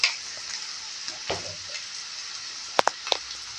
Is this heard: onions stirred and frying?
yes